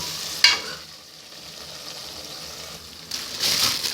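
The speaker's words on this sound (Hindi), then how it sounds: "चिकन की भुनाई जो है वो ज़रा सुकून के साथ आराम आराम से अभी चल रही है" Chicken slowly roasting bhuna-style in a pan, a soft continuous sizzle with a sharp stir or clink near the start and a louder burst of frying and scraping toward the end, no talking.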